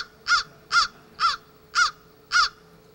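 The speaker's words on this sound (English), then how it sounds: "In the case of the crow, it's everywhere. And you can also hear the sound, so you can hear the call" A crow cawing from a bird identification app recording, five clear, harsh caws evenly spaced and close, with nothing else heard.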